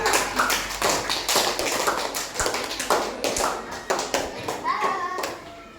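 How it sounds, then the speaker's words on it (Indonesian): A class of young students gives lively applause, a dense fast patter of many hands clapping steadily and close, with children's voices mixing in. "tepuk tangan yang meriah"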